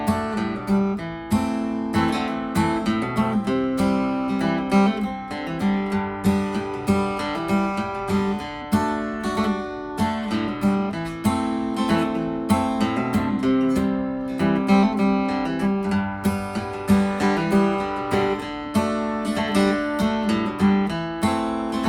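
An acoustic guitar plays a song in G, with steady strummed chords repeating in a close, even rhythm for about twenty seconds.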